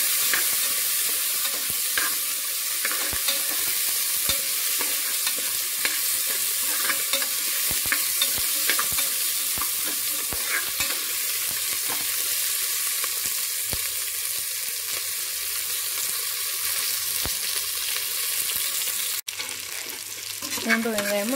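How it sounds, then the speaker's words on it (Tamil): Garlic and small shallots sauté in hot oil in a pan, making a steady, loud sizzle with occasional stirring scrapes that runs throughout, briefly dropping near the end. "பூண்டு வெங்காயமும் நல்லா வதங்கிடுச்சு பாருங்கள்"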